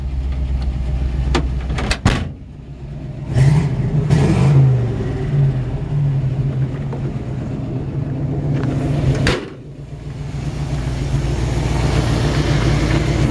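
A 1953 Chevrolet 3100 pickup truck idles with a deep, rumbling exhaust, swelling into a couple of revs, interrupted by sharp clunks like a door shutting.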